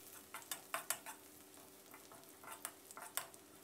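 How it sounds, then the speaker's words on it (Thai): Coarsely chopped Thai garlic stir-frying in a little vegetable oil over medium-low heat, soft spatula scrapes and taps in irregular bursts over a faint quiet sizzle. "ตั้งกระทะนะครับใส่น้ำมันพืชลงไปเล็กน้อยตามด้วยกระเทียมไทยหกหยาบ1ช้อนโต๊ะผัดกระเทียมของเราให้แตกกลิ่นหอมเลยครับ"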